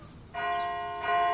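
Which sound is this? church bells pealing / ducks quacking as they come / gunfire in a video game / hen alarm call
church bells pealing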